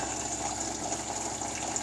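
Water from an off-grid pump system pours straight into a bucket, a steady, close hiss and splash with an even, unbroken rush and no talk.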